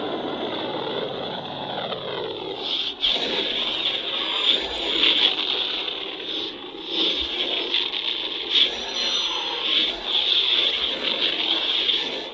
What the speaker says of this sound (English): So yes, you got the sounds of the Millennium Falcon